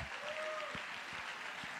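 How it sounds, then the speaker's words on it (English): Audience applause at a comedy hypnosis show, a soft, fairly distant patter of clapping from a small crowd, with a faint tone and some low thumps underneath. "give yourselves a round of applause."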